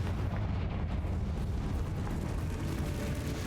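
A fiery Confringo spell blast from Hogwarts Legacy, a dense, continuous explosive rumble with a deep low-end roar sustained throughout, loud and close with no voices.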